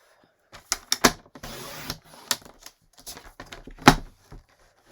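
A paper trimmer cuts card stock for a pop-and-twist greeting card. A few sharp clicks and taps come first, then a short, rasping slide of the blade, then more scattered clicks, all close up.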